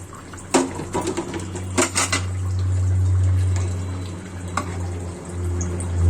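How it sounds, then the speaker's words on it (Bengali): A spoon scrapes and clanks against a cooking pot while beef and papaya curry is stirred, giving several sharp metallic knocks followed by a low bubbling simmer. "তলাটা লেগে গিয়েছি একটু নাড়াচাড়া করে দিচ্ছি"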